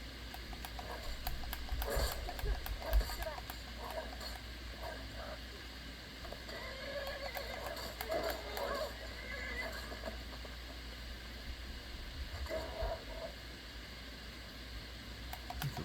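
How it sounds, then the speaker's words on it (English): Horses whinny and neigh repeatedly over a steady hiss in the video game Skyrim, with clip-clopping hooves and scattered clanks of a fight with a bandit mixed in. "Why are you fighting a horse?"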